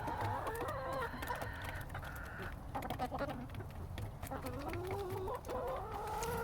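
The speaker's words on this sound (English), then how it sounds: "let me get you so you can see the chickens" Chickens in a coop, fed scratch grains, cluck and murmur continuously at close range, several birds overlapping in a busy, restless chatter with occasional sharper calls.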